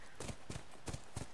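Horse hooves clip-clop in a steady paired rhythm, four clear double strikes close up, from an old horse ridden in The Last of Us Remastered on PS4, with no talking over them.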